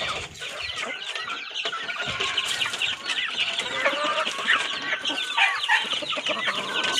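A flock of chickens clucks and chatters nearby, with overlapping calls, busy and fairly loud, and a few sharper squawks mixed in.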